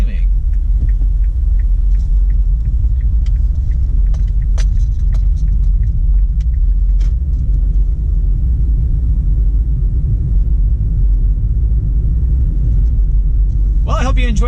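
A car drives through downtown Houston near Lamar Street and Allen Parkway, with a steady, loud low road rumble and engine drone throughout and a few faint ticks and clinks inside the cabin.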